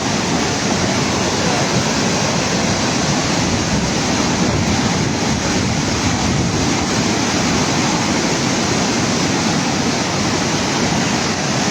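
Floodwater rushes through a breached river protection embankment in Rajnagar, Moulvibazar, producing a loud, constant, roaring wash with no pauses for the whole stretch.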